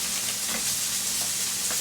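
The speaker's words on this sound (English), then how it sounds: "There go that sizzle. That's the sizzle." Black beans sizzle and hiss steadily in a hot pan on a home stove, a soft continuous frying crackle heard close up with no talking over it.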